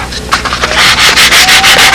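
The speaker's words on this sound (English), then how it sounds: "it's with a sanding block, dress the edges off nicely" Brisk rhythmic rubbing of a sanding block along 1/64-inch plywood edges, close and steady, with repeated back-and-forth strokes and no talking.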